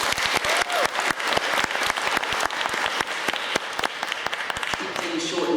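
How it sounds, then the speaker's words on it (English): Audience applause for the grand finalists of a 2014 open debate grand final: sharp, distinct individual claps in a brisk irregular rhythm from a modest crowd, close and clear, fading near the end. "So one more round of applause,"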